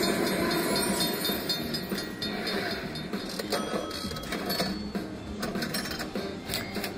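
A casino slot machine plays a train sound effect during a gold train feature, a busy mechanical rumble with clicking and chiming, fairly quiet among the surrounding machine noise.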